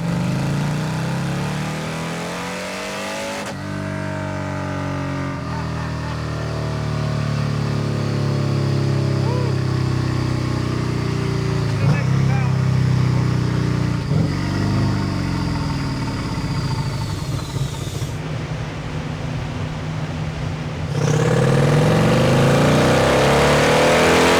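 Turbocharged Harley-Davidson Street Glide engine revving hard on a dyno, loud and continuous with rising pitch sweeps through repeated pulls, cutting off abruptly between runs and returning at full volume near the end.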